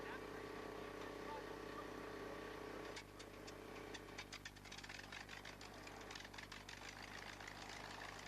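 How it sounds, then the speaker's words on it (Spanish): The engines of the Voyager aircraft warm up on the runway at Edwards Air Force Base, a faint steady drone joined partway through by rapid uneven knocking, with a narrator's voice over it. "calienta motores."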